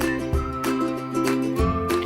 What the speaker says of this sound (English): music that is just happy, sounds like this.